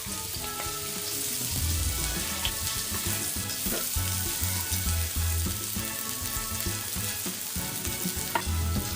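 Mustard seeds, cumin and chopped spring onion sizzle and crackle steadily in hot oil in a home kitchen, a continuous close frying hiss with occasional pops and stirring clatter, no talking.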